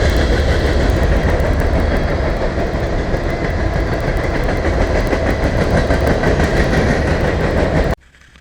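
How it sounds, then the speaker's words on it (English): A train rumbles past at close range in the wilderness, loud and steady with rhythmic clacking of wheels on rails, then cuts off abruptly near the end. "Here goes the first train I see."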